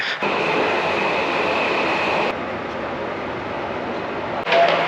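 A train ride in Tokyo: a dense, steady rumble of a moving railcar interior with a faint tonal whine, close and continuous, shifting in character midway through, with no talk.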